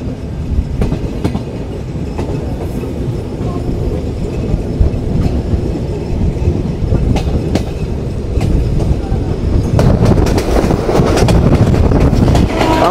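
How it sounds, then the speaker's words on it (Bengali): At high speed, the Rupsha Express thunders through Azimnagar station with a loud, constant wheel rumble and rapid clickety-clack that swells heavier toward the end; no talking. "Rupsa express থ্রুপাস Azimnagar railway station."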